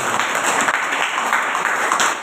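Church congregation clapping during a sermon, a dense continuous wash of applause from a crowd, loud and even for its whole length.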